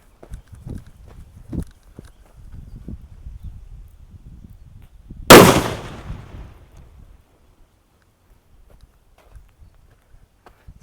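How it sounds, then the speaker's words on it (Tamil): A quarter-kilogram paper bomb firecracker bursts with a single loud, sharp bang that rings out briefly, following quiet outdoor rustling and low background sounds. "எனக்கு தெரிஞ்சு பேப்பர் பாம்பெலாம் வெடிச்சிடும்"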